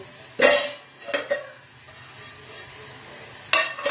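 Onions frying in ghee in a pan: a soft, steady sizzle broken by three short bursts of stirring and scraping, close and alone.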